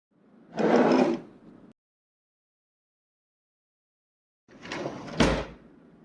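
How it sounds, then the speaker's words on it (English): A wooden drawer or cupboard is worked indoors: a scraping slide, a pause of near silence, then a second slide that ends in a sharp knock. "The daily necessities should be in this drawer."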